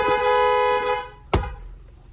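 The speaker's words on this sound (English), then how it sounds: "the horn sound is actually probably one of the best sounding" A loud, steady horn on a 2022 Ford Bronco Sport SUV blares for about a second, then cuts off, followed by a sharp thump and quiet outdoor background.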